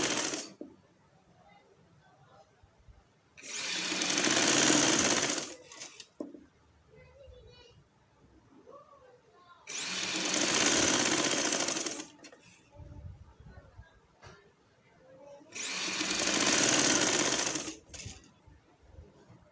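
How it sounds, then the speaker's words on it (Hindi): A sewing machine stitching over a fabric strip for a neckline, in three loud whirring bursts of a few seconds each, separated by quieter pauses with faint handling noises and soft talk. "सारी जो है स्ट्रिप के ऊपर हमने इसी तरह से सिलाई लगानी है।"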